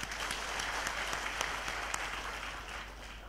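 An audience at a sales and dealers meet claps together in welcome, a steady, dense round of applause heard from nearby that thins out toward the end.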